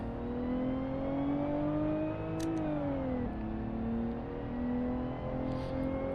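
A Mercedes W124 with a 5-liter naturally aspirated V8 holds a steady, throaty engine note. The pitch rises, dips sharply once near the middle, then climbs again, loud and close, with no voices.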